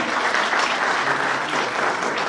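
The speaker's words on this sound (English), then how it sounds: "Let's clap for them once again." An audience at a journalism and environment panel discussion applauds steadily, a dense, even wash of many hands clapping close by with no talk over it.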